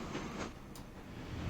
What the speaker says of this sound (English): so there's the new goods train.